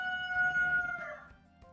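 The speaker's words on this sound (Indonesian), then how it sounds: "Ada ayam." A rooster crows once nearby at a household organic-waste composting spot, a single loud sustained cock-a-doodle-doo that trails off, with no talk over it.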